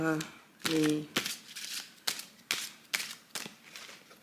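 Oracle cards being shuffled for a card reading, a series of quick papery riffles and taps in an irregular rhythm, with a voice speaking briefly at the start.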